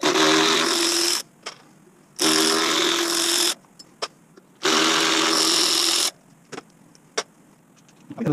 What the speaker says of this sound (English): Electric tools make it very easy, but you could just use any old ratchet here or just a normal Allen key.